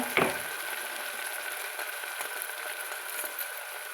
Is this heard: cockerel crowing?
no